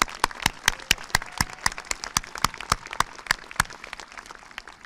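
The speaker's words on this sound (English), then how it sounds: "all deserve another round of applause" Audience at a college bachelor's graduation ceremony claps, with distinct sharp individual claps in an uneven rhythm that thin out toward the end.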